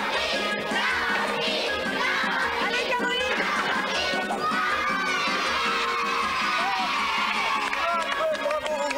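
A crowd of children cheers and shouts at a televised French event, a continuous lively din of high voices and whoops with some clapping, loud and close.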